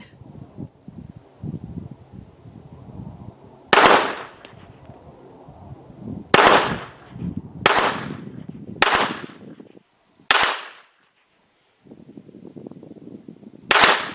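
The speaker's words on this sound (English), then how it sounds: "Now Shop Girl's going to come in here and run a magazine." A magazine fired from a Jimenez JA-22 .22 LR pistol at a range: six sharp, loud shots spaced unevenly over about ten seconds, with quieter range background noise and handling sounds between them.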